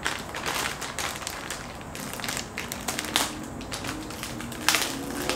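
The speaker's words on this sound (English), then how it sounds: "I'm gonna cut the seam down here" Plastic mattress packaging is sliced along its seam with a small supplied cutter, giving a continuous close crinkling, scraping rip with sharp crackly bursts throughout.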